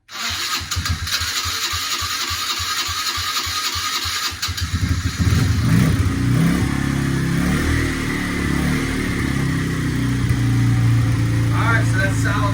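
A Kawasaki KFX90 ATV engine being started after a top-end reassembly: several rapid starter pulses, then the engine catches and settles into a loud, steady run close by with a few revs, while people talk over it.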